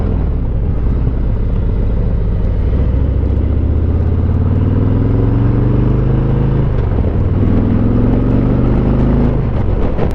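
A Harley Davidson Ultra Limited cruises through a neighborhood at light throttle, a loud, close, continuous low rumble with pitch rising through the gears and easing between shifts.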